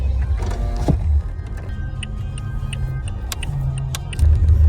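A car drives with a low steady engine and road rumble, overlaid by scattered clicks and mechanical ticks from inside the cabin, close and fairly loud with no speech.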